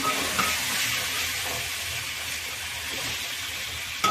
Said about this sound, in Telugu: ఫస్ట్ ఒకసారి తిప్పొచ్చు ఉప్పు కారం పట్టేటట్టు